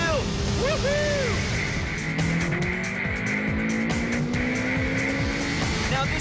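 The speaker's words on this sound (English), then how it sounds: "We're chasing down a Porsche at the moment." A sports car engine revs hard and climbs through the gears at speed, loud and close, with a brief tire squeal early on.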